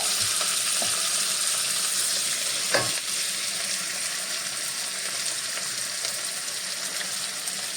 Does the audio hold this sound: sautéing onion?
yes